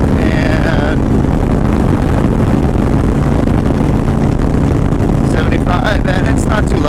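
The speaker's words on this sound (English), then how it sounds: "let's take it up into the upper registers a little bit, and we'll see how loud this motor is" A Honda Stateline motorcycle with aftermarket pipes cruises at 75 mph, its engine a steady, loud drone under heavy wind rush from riding at speed.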